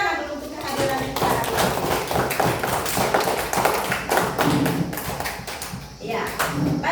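Schoolchildren in an elementary classroom clap their hands together, a lively run of rhythmic claps and thumps with children's voices mixed in, continuing for several seconds.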